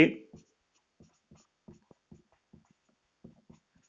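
Pen or chalk strokes during a Class 9 maths lesson on the number system: a burst of sound at the start, then a run of short, quiet, close strokes and taps in an irregular rhythm.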